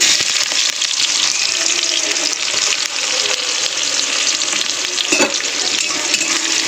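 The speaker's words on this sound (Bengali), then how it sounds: "পেঁয়াজটা আমি একটু লাল হয়ে ভাজতে দেবো।" Chopped onion with black cumin seeds sizzles loudly in hot oil in a pan, a constant close frying hiss with a brief stir or scrape partway through.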